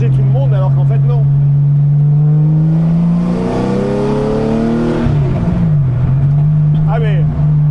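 A Porsche sports car engine drones steadily from inside the cabin, revving up with rising pitch, then dropping and climbing again, loud and close.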